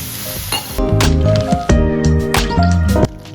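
Water poured into a pan of spices frying in oil for a home-style chicken curry, giving a burst of loud sizzling and spattering with clinks, fairly close and continuous.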